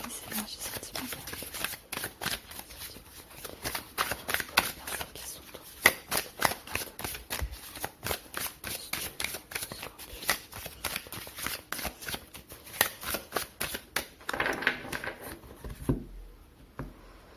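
Tarot cards handled and shuffled at close range, a steady stream of soft crisp card flicks and slaps in irregular quick bursts, fairly quiet, fading out at the end.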